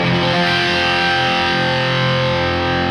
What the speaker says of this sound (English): If I was to strum this big kind of chord here